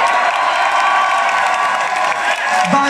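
A concert crowd at a live music show applauds and cheers for a band, loud sustained clapping with whoops and shouts throughout, and a brief voice near the end.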